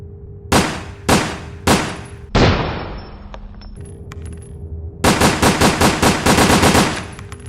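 Regular 9x19mm automatic pistol firing in Resident Evil: Dead Aim, first four sharp single shots spaced about half a second apart with ringing tails, then a pause with faint clinks, followed by a rapid burst of roughly nine quick shots.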